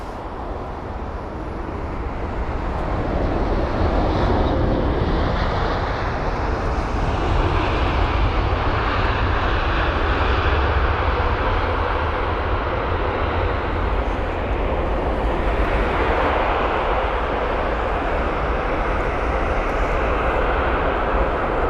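A United Boeing 787-9 Dreamliner arriving at London Heathrow from Denver, its engine roar swelling in over the first seconds and then holding as a loud, steady broadband rush with a shifting whine above it, no talk.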